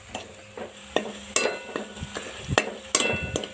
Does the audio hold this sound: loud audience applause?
no